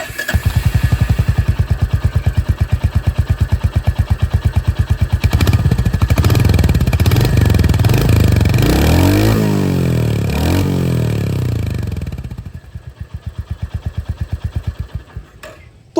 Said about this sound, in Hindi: इसकी जो एग्जॉस्ट साउंड है वो भी आप लोग सुन लीजिए